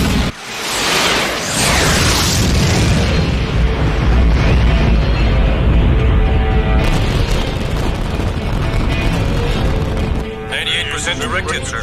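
Animated space battle with heavy weapons fire and explosions slamming into an energy shield around a ship, a dense, continuous roar of booms and blasts filling the whole clip, briefly cutting to a different blast texture near the end.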